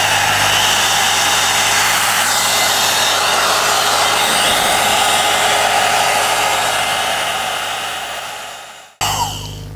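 A hot air brush hair dryer blows at maximum heat, a loud steady whooshing roar that winds down near the end before a brief click as it is switched.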